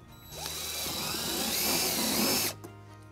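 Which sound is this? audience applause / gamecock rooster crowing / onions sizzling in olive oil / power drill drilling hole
power drill drilling hole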